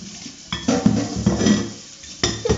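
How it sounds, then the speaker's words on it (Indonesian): Dishes, plates and bowls are being washed, with repeated clinks, scrapes and clatters of crockery and running-water noise, close by and fairly loud, with no talk. "Tengah basuh pinggan."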